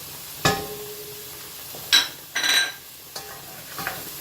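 Garlic and onions fry in a pan with a low, steady sizzle, while a utensil stirs and scrapes against the pan in a few sharp, close strokes.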